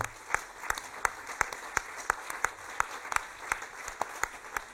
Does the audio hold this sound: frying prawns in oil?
no